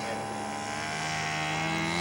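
Scale model aircraft taxiing out at a scale aircraft show, a steady droning engine and propeller hum held at an even level for the whole stretch, with faint crowd voices beneath.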